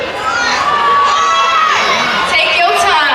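A loud crowd at a cheer and dance battle championship screams and cheers continuously, with high shrill voices of children prominent throughout.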